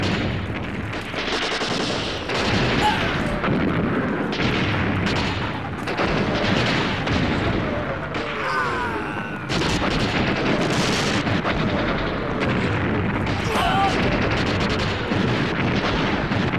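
Dense, continuous artillery and gunfire from a war film battle scene depicting the Beiping-Tianjin campaign, loud and sustained with overlapping blasts and crackling shots throughout.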